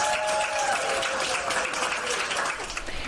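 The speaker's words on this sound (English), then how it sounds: "The doctors and staff lined up to cheer on Everidge Cade as he was wheeled out of St. L" Hospital staff at St. Luke's Rehabilitation Institute clap and cheer as a patient is wheeled out for his send-off, a steady, moderately distant wash of applause with scattered shouts.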